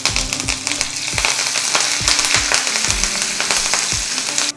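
Garlic and curry leaves fry in hot oil for ridge gourd chutney, giving a loud, steady sizzle with repeated spoon-stirring clatters throughout, close up and alone.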